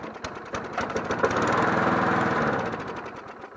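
A free lawn mower from a landlord runs steadily on its own gas, its engine chugging with a close, even rhythm that swells slightly toward the middle before easing off.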